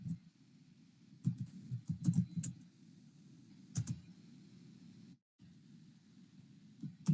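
Someone types a git command on a computer keyboard, producing a quiet run of irregular clicks and small bursts of keystrokes against a faint hum, with one brief pause.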